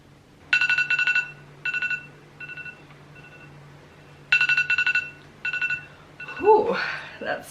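A phone timer alarm goes off in repeated bursts of bright electronic beeping tones, several pulses per group with short pauses between, followed by a brief voice at the end.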